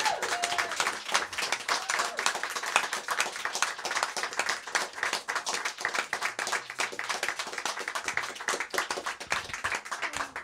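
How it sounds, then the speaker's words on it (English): Audience applause for the musicians at an evening of acoustic music at The Drawingroom: a dense, steady wash of many hands clapping close by, holding at an even level for the whole stretch. "let's show your applause."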